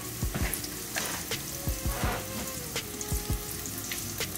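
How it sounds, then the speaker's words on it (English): Panko-breaded onion rings sizzle and crackle in a deep fryer, a steady hiss of hot oil with sharp pops and bubbling scattered throughout, close and moderately loud with no talking. "Carefully lay those in the fryer and listen to that sizzle."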